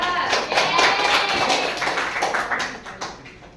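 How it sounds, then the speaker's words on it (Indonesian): A classroom of students claps for a student group after a presentation, a brief burst of close, quick overlapping claps that fades out over a few seconds. "tepuk tangan untuk kelompok 3"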